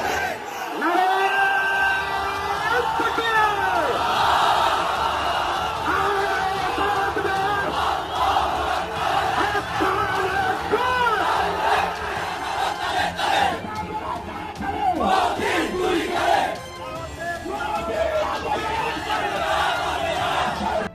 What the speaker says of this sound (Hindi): लाखों की संख्या में लोग रास्ते पे उतर चुके हैं और ये नारे लगा रहे हैं